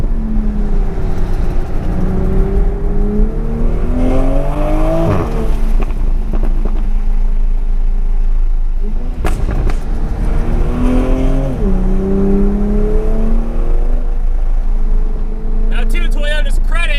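A 2020 Toyota Supra on a race track, its engine rising and falling through several loud revving climbs and gear changes, close and continuous, with a person talking over the noise.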